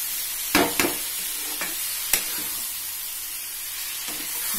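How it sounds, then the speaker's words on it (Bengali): Young jackfruit and potato fry in spiced oil with a steady bright sizzle. A spoon scrapes and stirs the pan now and then, adding a few sharp knocks over the constant hiss. "এবার আমি এর মধ্যে এঁচোড়টা আর আলুটা দিয়ে দিলাম। দিয়ে আবার আমি একটু কষবো।"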